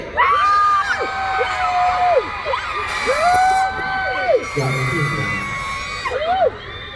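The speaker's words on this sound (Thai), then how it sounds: "เสียงกรี๊ดใครดังที่สุด คนนั้นชนะไป" A crowd at a sleepover fan event in Thailand screams in a loudest-scream contest, with loud, sustained high-pitched shrieks rising and falling in overlapping waves and brief pauses between bursts.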